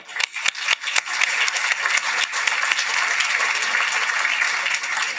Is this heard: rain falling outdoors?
no